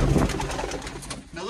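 Pigeons coo softly in low, rounded bursts close by at a mini zoo, blending with voices and some background rustle.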